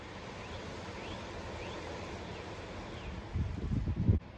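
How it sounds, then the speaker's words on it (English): Outdoor wind in spring trees makes a steady, soft rushing noise. A stronger, rumbling gust buffets the microphone near the end, and faint chirps sit in the background. "Some wind."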